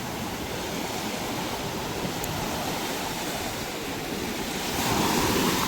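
Sea waves break on a beach at Mullaitivu where fishermen cast nets from the shore, a loud continuous roaring wash that swells near the end, with wind and no talk.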